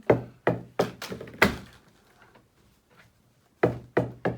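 A bouncing ball thumps against a sofa and other surfaces indoors in a series of close, dull knocks, first in a quick run, then a quiet pause, then a few more hits.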